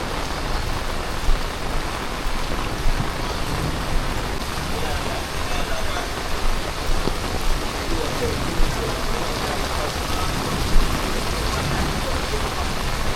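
Heavy rain pours onto the streets of Montego Bay, Jamaica, a loud, dense, steady roar of rainfall with splashing running throughout.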